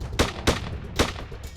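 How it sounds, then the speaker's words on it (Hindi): Pistol shots are fired in the open, three sharp cracks in quick uneven succession, close and loud over a noisy background. "जब वो पिस्टल से खुलेआम गोली चला रहा है"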